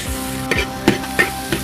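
Green wheat kernels stir-fried with pork belly in a wok, a bright, constant sizzle punctuated by four regular metal spatula strokes scraping the pan, close and clear.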